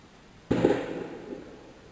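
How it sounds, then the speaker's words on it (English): A single New Year's Eve firework bursts outside with a sharp boom that rings and fades over about a second, heard from indoors. "people are just like going insane with the fireworks"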